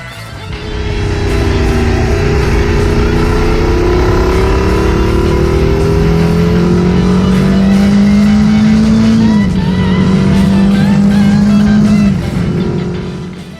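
A Moto Guzzi V100 Mandello motorcycle engine accelerates hard and loud, with a rising roar that climbs through the revs, a brief break around a gear change, then more steady pulling before it eases off at the end.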